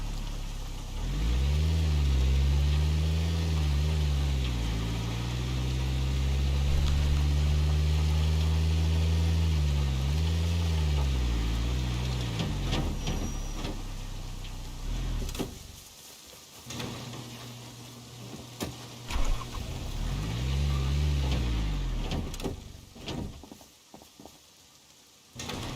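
A vehicle engine in a survival video game drones steadily while driving, its pitch swinging up and down with throttle changes, then drops out amid clattering impacts before revving up again near the end.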